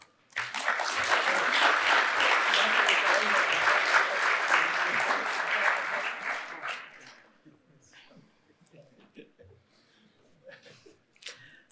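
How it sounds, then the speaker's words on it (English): Applause from an audience welcoming new fellows at an academy induction ceremony, a dense sustained clapping for several seconds that then fades out, leaving a quiet room with scattered faint sounds. "we all applaud the new fellows"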